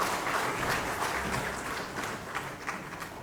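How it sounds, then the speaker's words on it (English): Audience applause at an agriculture awards ceremony, a steady wash of many hands clapping at moderate volume, slightly distant and fading a little toward the end. "Everybody put your hands together, give them a round of applause."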